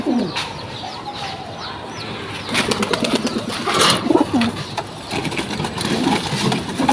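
Female pigeons in a loft coo and flutter in a busy mix of soft calls, with clucking bird sounds and a low engine hum in the background, fairly close and continuous.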